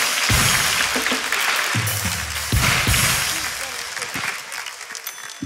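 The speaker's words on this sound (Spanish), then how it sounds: "Nuevamente un aplauso para Katy." Studio audience applauding for Katy on a comedy talk show, a dense wash of clapping throughout with some voices mixed in.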